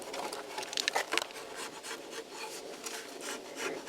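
A short-handled 1-inch Craftsman chisel shaves timber in a run of close, dry rubbing and scraping strokes, each brief and uneven, with a few sharper rasping bursts partway through, no voices.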